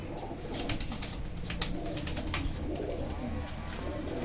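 Karna pigeons coo steadily at close range, soft repeated calls layered with rustling and light clattering noises, with no talk over them.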